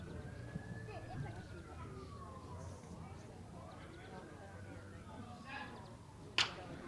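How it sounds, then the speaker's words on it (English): A faint, distant police siren wails up and down over a noisy outdoor background at a baseball game in Wisconsin Rapids, with a sharp snap-like click near the end. "Sirens keep on wailing here in Wisconsin Rapids"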